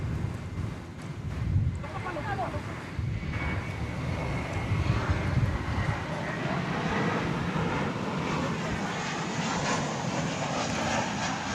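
An American Airlines Airbus A321 arriving from Tucson at DFW airport roars steadily as it passes, its jet engine noise broad and sustained over wind, with a faint voice in the background.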